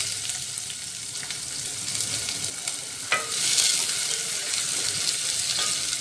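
Chopped onion fries in olive oil in a pot, giving a loud, continuous close sizzle with stirring and a sharper burst of crackle about halfway through, and no talking.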